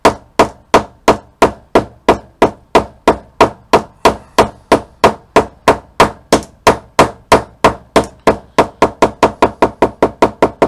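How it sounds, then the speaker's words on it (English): Rapid, steady blows of a dome-head planishing hammer flattening leather, each a sharp, loud impact in an even rhythm that speeds up slightly toward the end. "I've got a little dome head planishing hammer"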